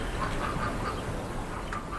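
Ducks at a pond quack in a run of short, nasal calls over a constant outdoor wash of water and wind, with one sharper quack near the end.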